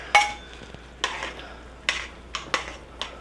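Mushrooms and carrots drop into a pot of oxtail stew, giving six soft, wet plops and light clinks at uneven intervals, close and fairly quiet with no talking.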